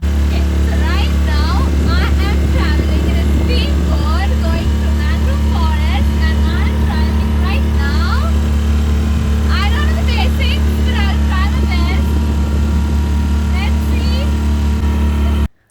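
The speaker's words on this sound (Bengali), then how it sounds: "আমরা দুজনে বোট চালালাম" A motorboat engine drones steadily and loudly on the Kerala backwaters near a mangrove forest, with people talking over it throughout.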